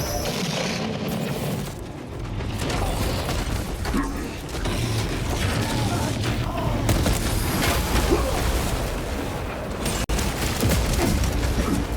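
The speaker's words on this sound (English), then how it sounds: "Grenade deployed." A grenade blast and gunfire in Warhammer 40,000: Space Marine 2, heavy booms and clanking mechanical combat noise layered with rattling shots, loud and sustained throughout, with brief voice callouts in the mix.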